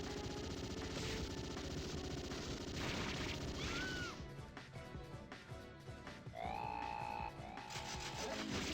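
Heavy machine gun fire in the video game Metal Slug 6, rapid gunshot bursts mixed into dense game music and effects, with booms and shifting electronic tones.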